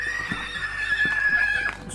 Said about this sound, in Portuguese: Ao relinchar, o cavalo está avisando para outros cavalos onde é que ele está.